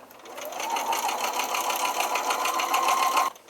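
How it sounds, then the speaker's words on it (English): A sewing machine stitches fabric snugly around piping cord in one steady, continuous run, close and fairly loud, then stops abruptly near the end. "So keep sewing all the way down the cord until you have all the cording put together"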